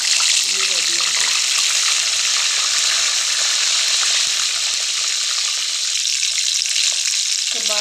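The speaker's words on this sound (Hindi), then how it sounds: "कबाब जो है वो फ्राई हो रहे हैं" Chicken seekh kababs fry in a pan with loud, steady sizzling and crackling oil, close up, with a brief low voice early on.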